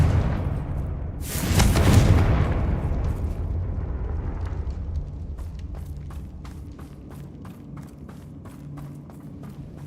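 A Confringo spell explodes in Hogwarts Legacy with a loud, sudden boom that rolls out into a long, fading rumble, followed by a rapid series of sharp, crackling clicks.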